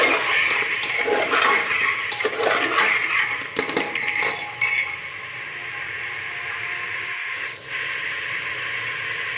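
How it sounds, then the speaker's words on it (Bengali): Chicken with carrot, green chilies and coriander leaves sizzles in oil in a pan, with a steady hiss and bursts of stirring and scraping clatter early on, then a quieter continuous sizzle. "এবার সবগুলো আর একবার আমি মাংসের সঙ্গে ভালো করে তেলের মধ্যে কষে নেব।"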